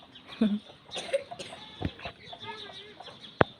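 A village hen whose leg is caught on a tied string clucks softly in short, scattered bursts on a rural morning, mixed with brief background voices and a sharp clatter near the end.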